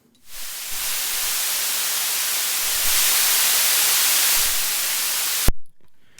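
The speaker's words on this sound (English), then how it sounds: "Here's the blue noise." A steady, bright hiss of blue noise from a modular synthesizer noise module, tilted toward the high end, holding for about five seconds before cutting off abruptly.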